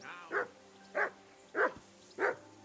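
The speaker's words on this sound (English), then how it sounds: "I assume you can hear that damn dog of yours barking." Four evenly spaced barks from a dog in Kingdom Come Deliverance 2, each a short gruff woof about two-thirds of a second apart, close and alone against a faint hum.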